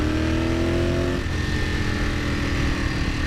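A motorcycle engine runs loud and close while riding, a steady droning roar with harmonic whine that shifts pitch partway through as the throttle eases off, sitting alone with no talk over it.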